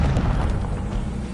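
An Incendio fire spell blast in Hogwarts Legacy: a loud, sustained boom with a deep rumbling roar, close and dense throughout with no pause.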